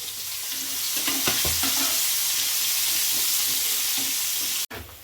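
Chopped onions hit a hot pan and fry with a loud, continuous close-up sizzle and a few scraping stirs, cutting off abruptly just before the end.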